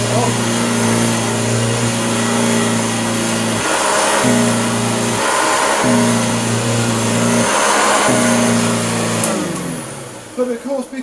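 A loud, steady upright Hoover vacuum cleaner motor whine drones throughout, with its pitch stepping down and back up several times. Muffled talk sits beneath it.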